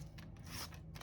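Scissors trim paper for a junk journal in a few quick, soft snipping cuts, close but faint and with no talking.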